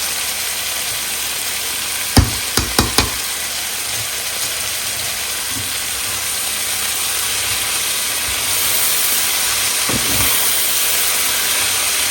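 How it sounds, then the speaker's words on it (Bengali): Onion frying with turmeric and salt makes a steady, broad sizzling hiss close by, with a few sharp clinks of a utensil against the pan early on and again near the end. "এর জন্য পেঁয়াজটা একটু হলুদ আর লবণ দিয়ে ভেজে নিচ্ছি"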